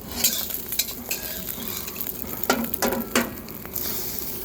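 Shrimp searing in a hot pan while making shrimp fried rice, with a steady close sizzle and a few sharp clinks and scrapes of a utensil stirring against the pan.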